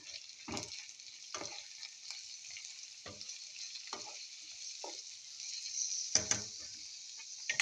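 Sweet gourds sautéing in a pan hiss with steady sizzle while a utensil stirs them, scraping and knocking against the pan in several separate strokes.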